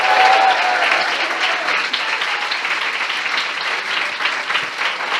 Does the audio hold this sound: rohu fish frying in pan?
no